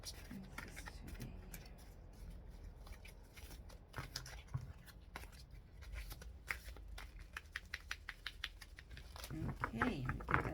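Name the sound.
shuffling Keepers of the Light Oracle cards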